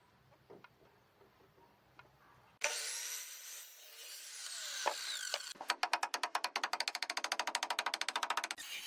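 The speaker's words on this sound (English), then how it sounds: "He uses a circular saw to make precise angled cuts, known as bird's mouth cuts" A circular saw cuts angled bird's mouth notches into wooden roof rafters during house framing. A few quiet knocks come first, then a loud sustained cutting roar gives way to rapid, rhythmic rasping bursts close by.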